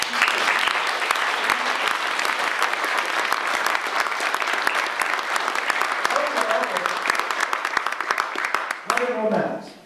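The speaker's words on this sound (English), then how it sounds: "Give only a warm applause." A seated audience at a business talk in the Tropen Instituut Amsterdam gives warm, continuous applause after a lecture on behavior, ending abruptly as a voice begins near the close.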